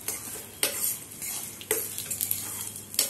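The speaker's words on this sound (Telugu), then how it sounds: "ఈ ధనియాలను కూడా కాసేపు వేపుకోవాలి." Coriander seeds roasting in hot oil in a pan while cooking a drumstick gravy, heard as a steady close sizzle with a few sharp scraping stirs spaced across it.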